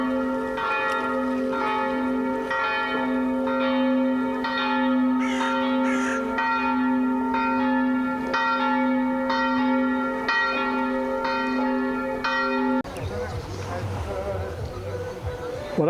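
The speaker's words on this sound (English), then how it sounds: "think the bells are having a dance off" Church bells in Croatia ring loudly and repeatedly with sustained, overlapping tones and regular strikes for most of the stretch, then stop abruptly near the end, leaving quieter outdoor background.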